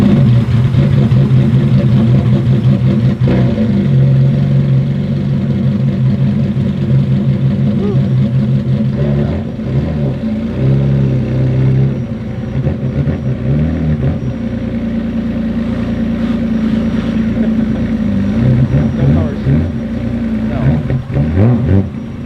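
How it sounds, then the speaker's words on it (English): Ferrari F50 engine running loud and close, with a deep steady rumble that rises and falls through blips of revs over a long stretch, and faint voices at times. "We get to hear the F50."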